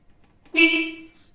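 A Zetor tractor horn sounds once with a single steady toot lasting about half a second, close and fairly loud, rising abruptly out of near silence and fading off.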